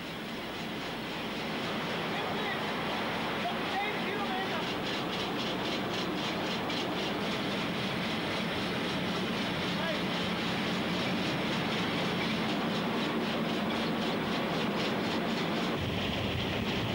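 The Rheingold express, a classic German train, runs on rails with a continuous rolling roar and a rhythmic clickety-clack of wheels over rail joints, steady and close for the whole stretch.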